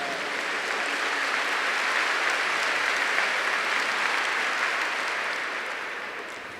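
Church congregation giving a long, dense round of clapping, steady and full for several seconds before starting to fade at the end, with no voices over it.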